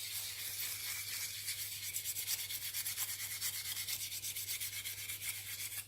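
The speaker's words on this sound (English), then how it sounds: "just a bit of wire wool. Just maybe take the tiniest little layer off there." Copper-clad PCB board being scrubbed with wire wool, a close, steady scratchy rubbing with fast rhythmic back-and-forth strokes that runs the whole way through with no talking.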